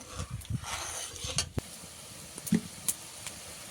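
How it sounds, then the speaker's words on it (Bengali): Sugar being stirred as it melts into syrup for gulab jamun in a pan, with a soft sizzle and scattered scraping clinks of a spoon against the metal, fairly quiet and unhurried. "এবার নেড়ে চেড়ে ভালো করে চিনিটা গলিয়ে নিয়ে চিনির শিরাটা বানিয়ে নেবো"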